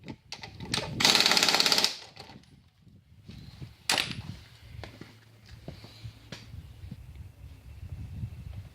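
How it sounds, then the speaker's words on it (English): An impact wrench rattles in a short, loud burst while tightening lug nuts on a 2001 Ford, followed by a sharp clank and quieter handling noises. "now that you have them tightened with an impact"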